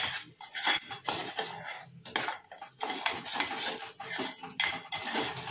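Ingredients for chicken biryani with turmeric and salt being stirred and fried in a pan, busy scraping and clinking of a metal spoon against the pan in close, uneven bursts over a faint sizzle, no talking.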